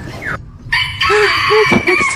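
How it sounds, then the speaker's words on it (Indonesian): A rooster crows loudly and close by, with clucking chicken sounds around it, in a short burst of farmyard fowl calls without speech. "Jadi ayam kalau berkokok, matanya ditutup."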